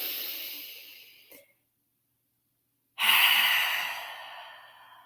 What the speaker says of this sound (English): take a really deep breath in. Allow the breath to come up to the top of your chest, and then open the mouth to exhale, release slowly